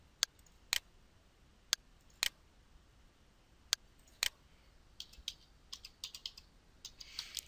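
Computer keyboard typing a file name on a Windows 7 PC, sparse sharp key clicks at first, then a quicker run of lighter taps toward the end, close and quiet.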